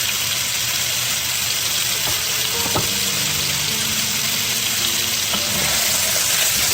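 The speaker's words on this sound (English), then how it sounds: "Give it a nice stir." A potato mixture stirred in a pan while it fries, a dense continuous hiss with a few faint scrapes and utensil taps, close and steady, under a constant high background whine.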